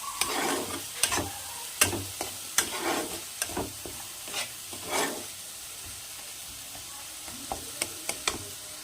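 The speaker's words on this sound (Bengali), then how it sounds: "এই সব কিছু একসাথে ভালো করে মিশিয়ে মশলাটাকে কষিয়ে নিতে হবে" Spice masala of turmeric, coriander powder and salt being stirred and fried in oil for a Bengali potol chingri curry, repeated scraping strokes of a spatula over a soft sizzle, close and fairly quiet.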